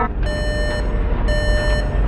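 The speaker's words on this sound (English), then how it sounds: "Guys, I'm getting an alarm from my base." An alarm at a base in an animated scene gives two sustained electronic beeps, each held for about half a second with a short gap between them, loud and clear over a low background rumble.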